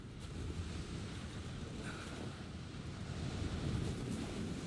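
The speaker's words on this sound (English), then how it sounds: "This wind is crazy." Steady wind gusting along a mountain trail in a video game, a continuous broadband rush that swells slightly toward the end, with no talking.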